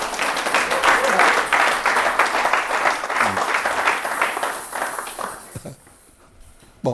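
A church congregation bursts into sustained applause at a service, the dense clapping filling most of the span before thinning and fading away near the end, with some voices mixed in.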